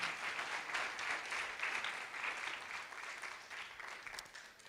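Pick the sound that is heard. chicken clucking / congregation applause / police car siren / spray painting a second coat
congregation applause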